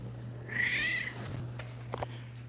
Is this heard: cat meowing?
yes